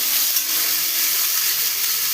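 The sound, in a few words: potatoes and bitter gourd frying in mustard oil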